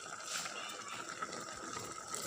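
A quiet, steady splash of water is poured into a cooking pot of simmering jicama pods, a soft gushing fill lasting a couple of seconds with no voices over it.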